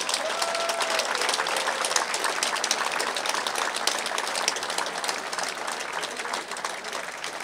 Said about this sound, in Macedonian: Може ли со еден голем аплауз да ги поздравиме новите пратеници од Куманово?